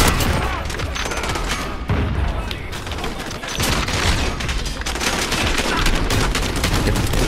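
Dense, continuous gunfire with bursts and booming grenade explosions in Call of Duty: Modern Warfare, loud and chaotic throughout.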